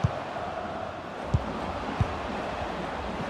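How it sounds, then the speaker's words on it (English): Steady roar of a stadium crowd urging its team on during a FIFA 20 football match between Villarreal and Real Madrid, a continuous dense wash broken by a few dull low thumps. "Just listen to the crowd, Derek, urging their team on"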